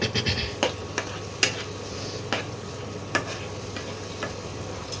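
Spice paste for a katla fish curry being stirred and fried, with a soft sizzle under irregular clinks and scrapes of a spoon against the pot, close and fairly quiet, no talking.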